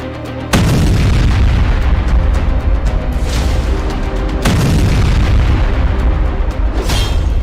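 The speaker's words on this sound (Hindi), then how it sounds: "इससे ऐसा धमाका होता है जिसकी वजह से इन्हें बंकर बस्टर बम कहा जाता है" A massive bunker buster bomb detonates with a deep booming blast, followed by sustained heavy rumble and a second loud burst partway through, close and overpowering.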